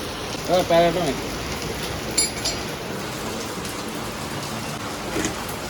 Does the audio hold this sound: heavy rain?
yes